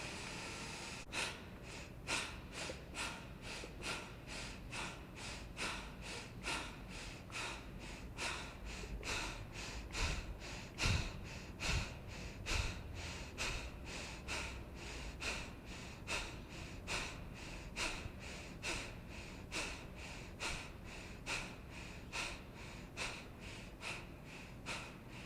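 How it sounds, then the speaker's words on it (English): Rhythmic, forceful exhales pushed out by the abdominal muscles during a yoga class breathing exercise, a steady series of short sharp puffs repeating about once a second, close and moderately loud, with no talking. "take a deep breath in and begin on the exhale, forcing it out with our abdominal muscles."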